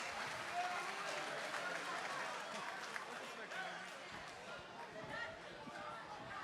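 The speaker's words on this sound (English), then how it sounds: "Let me get a big round of applause for Samuel Medell." A crowd at a fight night event cheers and applauds in a dense, continuous wash of claps and voices, with an announcer talking over it.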